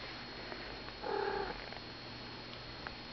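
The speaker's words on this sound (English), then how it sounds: "And here, we have Mama talking" A mother cat gives a short, soft vocalization lasting about half a second amid quiet room background, faint and close.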